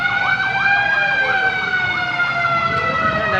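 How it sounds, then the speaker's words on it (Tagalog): Several fire truck sirens wail at once as they arrive at a fire in Marilao, their overlapping rising and falling tones loud and close, with voices talking beneath them. "ang dami pong bumbero dumarating"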